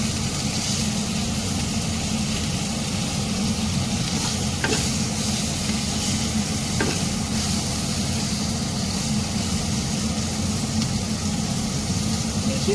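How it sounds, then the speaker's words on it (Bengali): Chicken frying in a pan while being stirred gives a loud, steady sizzle with a rough scraping texture and a couple of faint knocks, with no voices. "এবার এটাকে একটু নাড়াচাড়া করতে হবে।"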